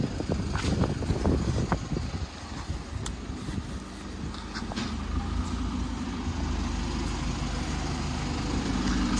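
A parked vehicle sits with its engine running outside a library in Blackburn, a low steady idle rumble with some street clatter, continuous and moderately close.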